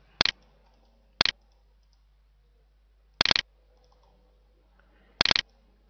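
Four sharp, quiet computer mouse clicks on an OK button in a firmware repair tool for a Hitachi hard drive, spaced irregularly over a near-silent background with faint hum.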